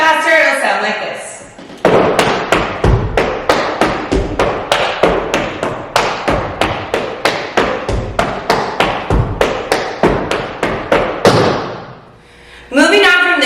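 Fast tap dance steps in a beginner-to-intermediate combo: rapid, evenly spaced sharp taps and heel and toe strikes, loud and close, with brief talking before and after the run.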